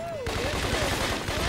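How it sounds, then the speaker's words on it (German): Rapid gunfire fired from inside a car in the Scarface video game, a dense burst of shots following a short lead-in, loud and continuous with engine noise underneath. "jetzt können wir auch mit den Waffen in der Karre rumballern"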